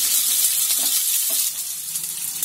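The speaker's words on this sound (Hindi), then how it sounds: "अब इसी में मैं सबसे पहले अनियन ऐड कर दूंगी। अनियन को हल्का सा सॉटे करूंगी" Onions sautéing in a pan with chillies, ginger and garlic for chilli chicken, giving a steady, even sizzle that stays close and continuous for a couple of seconds, with no talking.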